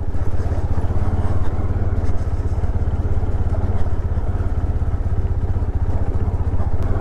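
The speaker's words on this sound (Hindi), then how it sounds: "पत्थर बड़े बड़े हैं, उछल जाती है बाइक।" A motorcycle rides a rough, rocky mountain road in Bhaderwah during a Ladakh trip, its engine thrumming steadily and loudly with clattering jolts as it bounces over big stones.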